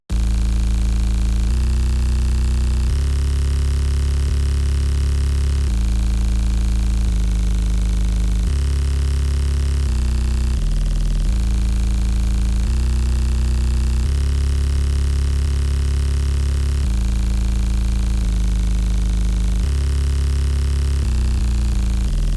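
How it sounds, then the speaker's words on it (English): A loud, buzzy synth bass of layered saw and sine waves drones through a sequence of sustained low notes following chord roots, shifting pitch every couple of seconds with a thick, layered tone. "we're gonna do that but with a saw and a sine wave layered on top of each other"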